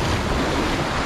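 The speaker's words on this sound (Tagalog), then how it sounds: "Ayan naman yung alon." Ocean waves wash against a rocky shore where someone fishes with a lure among the rocks, making a brief, loud, broad rushing surge with wind noise.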